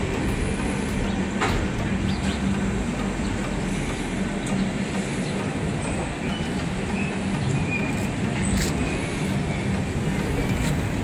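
A train rumbles past at close range at a railway station, wheels clattering and squealing faintly over a steady heavy roar, with occasional metallic clanks.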